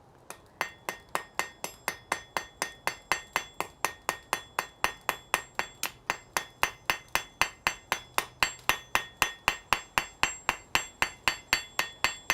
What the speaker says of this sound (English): I don't have to swing the hammer to work a material this small.